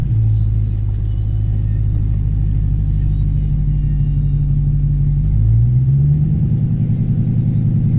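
A manual Dodge Challenger's engine runs at a steady low idle rumble close by, then rises in pitch as gas is added and the clutch is let out, with the engine note climbing toward the end.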